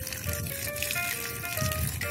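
A thin stream of water from a garden hose runs steadily in a garden while a tree is watered, a soft continuous trickling with faint tonal ringing in the background.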